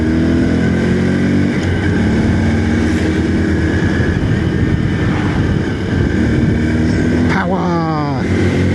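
A Honda Super Cub C125 motorcycle engine drones loud and close, then climbs sharply in pitch as it accelerates near the end, with wind rushing throughout.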